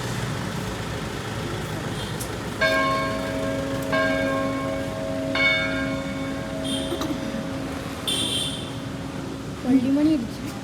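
Church bells ring out in several spaced bursts of clear tones over a busy outdoor background with traffic noise and people talking nearby.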